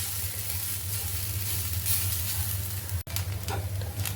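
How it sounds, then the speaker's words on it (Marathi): Grated coconut roasting in a pan for a banana flower vegetable dish gives a steady sizzle with a low constant hum beneath, briefly interrupted by a sharp click before the frying carries on. "खोबरं थोडंसं लालसर होईपर्यंत भाजायचं आहे"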